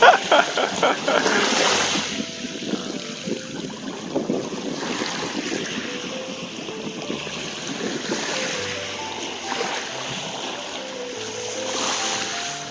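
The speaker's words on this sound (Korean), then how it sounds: "파도 치는 간격이 빨라요" Winter ocean waves wash and break against the shore amid gusty wind noise, with a continuous rushing surf throughout and waves coming at quick intervals.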